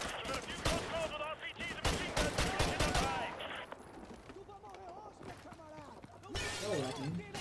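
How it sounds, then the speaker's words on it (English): Heavy militia gunfire in Call of Duty: Modern Warfare Remastered, dense rapid shots and cracks with shattering debris, loud at first then thinning, under game dialogue and player voices. "Roach, we're taking heavy fire from the militia here"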